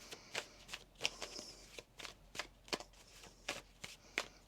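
Tarot cards shuffled by hand, a quick run of soft, crisp riffling clicks and taps at an uneven rhythm, close but quiet, with no talking.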